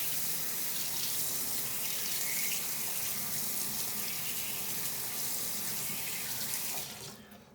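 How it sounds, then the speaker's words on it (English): A scoop is rinsed under a running kitchen tap while feeding a starter: a steady, close hiss of flowing water fills the clip before cutting off near the end, with no voices. "And then I'm gonna rinse it out."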